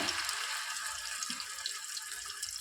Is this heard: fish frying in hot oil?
yes